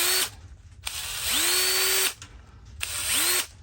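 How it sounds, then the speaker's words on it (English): An old, well-worn Bosch power drill whirs close up in three short bursts, each spinning up to a steady whine before cutting off, with brief quiet gaps between. "as you can tell, this is not a new Bosch drill. This Bosch drill has seen some stuff."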